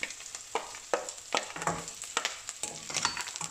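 Garlic fries in a pan for a Sri Lankan banana blossom curry, a quiet sizzle marked by quick, repeated scraping strokes of a spoon, with no talking.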